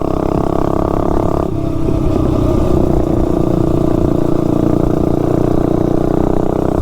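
A mini bike with a homemade pit bike exhaust, a Go Power Sports stage 1.5 kit and a 50-tooth sprocket, rides along with a loud, steady, buzzy engine drone that shifts pitch early on, close and continuous with no talk.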